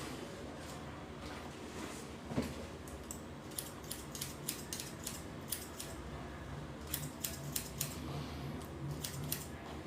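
Scissors snip a silicone hair prosthesis, a quiet series of close, crisp metallic cuts in irregular bursts over a low background hum.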